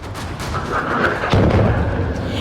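Loud blasts strike Iranian cities in a rapid series of booms and cracks, with one heavier low thud midway, close and dense with no speech.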